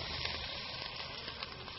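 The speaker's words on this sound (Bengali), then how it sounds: "পানি ঢেলে দেব" Vegetables for a lentil-and-vegetable daal fry in a pan as water is poured in, giving a steady, dense sizzle with no talking.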